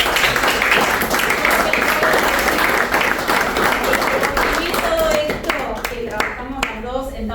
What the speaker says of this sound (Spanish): les quiero hacer un aplauso muy grande a